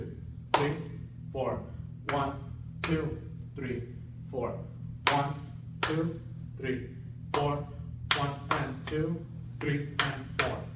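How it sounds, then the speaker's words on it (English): Hands clap out a simple rhythmic phrase, sharp close claps in an uneven pattern of single and quick paired hits, over a steady low background hum. "I wrote down this simple rhythmic phrase, and I'm gonna clap it down."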